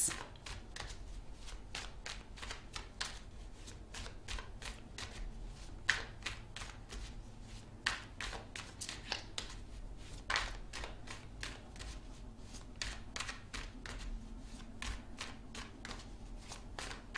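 Tarot cards being shuffled by hand, a rapid, steady run of soft riffling flicks and taps continuing quietly with no talking.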